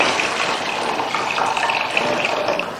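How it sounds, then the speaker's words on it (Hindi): Water poured into a cooking pot of roasted masala gravy for an arbi leaf salan, a steady, fairly loud rushing splash that runs the whole time without a break. "अब इस टाइम पर हमने जो है वो पानी शामिल करना है।"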